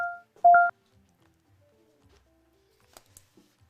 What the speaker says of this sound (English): I think the phone went off for a little bit.